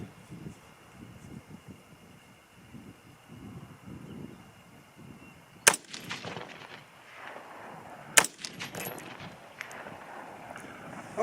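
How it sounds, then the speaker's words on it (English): Two sharp, loud rifle cracks from a 6.5 Grendel firing Sierra Pro Hunter bullets loaded with Power Pro Varmint powder, spaced a few seconds apart outdoors over steady wind noise. "next 2 shots will be Sierra Pro Hunter with Power Pro Varmint"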